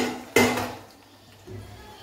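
Chopped onions drop into a cooking pan with one sharp clatter of metal and food, followed a second later by a softer scrape or sizzle, close and fairly quiet.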